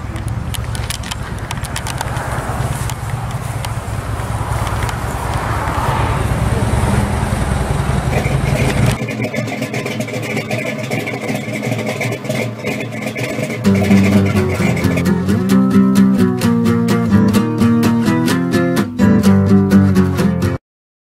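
A 1971 Chevrolet Corvette Stingray engine rumbles loudly nearby, then revs with deep exhaust tones that rise and fall, a strong throaty growl throughout.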